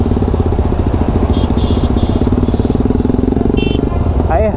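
A motorcycle engine with an aftermarket exhaust idles and burbles steadily up close, a rattly, tinny exhaust note running throughout with a voice talking over it.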